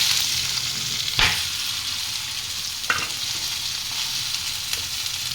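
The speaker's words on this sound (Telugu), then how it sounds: "ఫ్రై అయిన తర్వాత దొండకాయ వేసుకోవాలి." Ivy gourd and green chillies fry in hot oil for a chutney, giving a steady, close, dense sizzle throughout, broken by three sharp knocks of a spoon stirring the pan about two seconds apart, with no talking.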